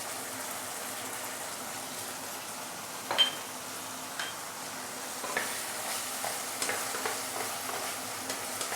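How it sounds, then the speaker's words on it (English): Tomato pieces and tomato sauce sautéing in oil in a pan, a soft steady sizzle with occasional clinks and scrapes of stirring, fairly quiet and without any talk. "Now let's saute this for a minute or two before we continue."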